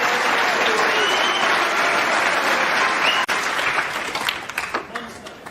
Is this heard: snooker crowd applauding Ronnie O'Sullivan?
yes